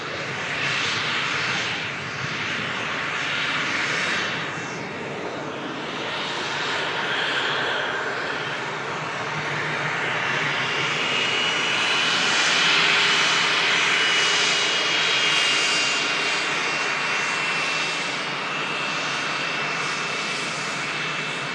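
A small business jet arriving from Venice, its engine roar loud and sustained, swelling and easing slightly as it passes, with no talk over it.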